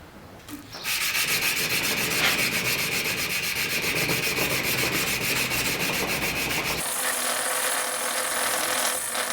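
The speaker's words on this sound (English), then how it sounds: "So those two tricks are going to make hand sanding a blade much easier." Steel knife blade cut from a saw blade being hand sanded, a steady, close, continuous rasping scrape with even back-and-forth rhythm, shifting to a brighter, hissier tone near the end; no talking.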